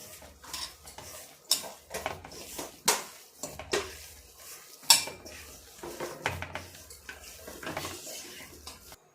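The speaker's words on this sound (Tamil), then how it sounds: "இதெல்லாம் சேர்த்து நல்லா கலந்து விட்டுறலாம்." A spoon clatters and scrapes against a bowl in irregular strokes as a thick toor dal pakoda batter is stirred, with occasional louder knocks, close by and fairly quiet.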